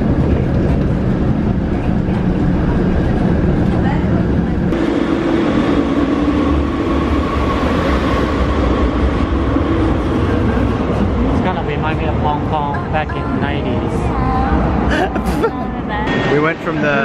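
Steady rumbling of a San Francisco trolley or subway car riding along, with rattles and squeals over a continuous roar, voices talking faintly underneath.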